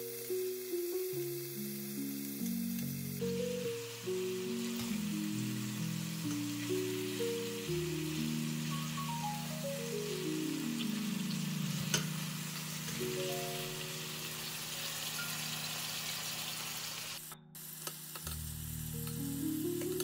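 Meatballs fry in a pan with a steady, close sizzle and crackle under soft background music, and no one talks.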